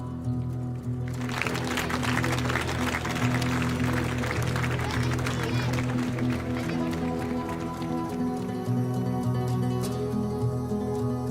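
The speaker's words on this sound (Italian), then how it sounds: "Applauso" Crowd applause breaks out at an outdoor traditional festival in Quartu Sant'Elena as costumed groups from Burcei parade, sustained dense clapping with a steady low hum of music beneath, continuing for several seconds.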